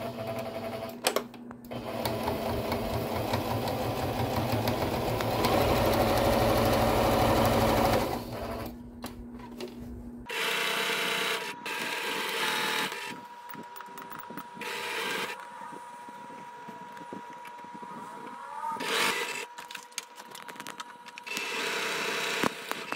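A sewing machine stitches the border of a fabric tea towel, running in a fast, steady mechanical whir close up, with several long runs broken by brief stops and restarts.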